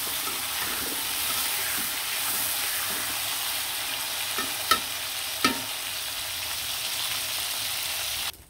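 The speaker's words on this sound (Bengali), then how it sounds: "মাংসগুলো আমি লাল লাল করে ভেজে নিলাম" Chicken pieces fry in hot oil until reddish-brown, a continuous close sizzle with a steady crackling texture and two brief clinks of a utensil against the pan.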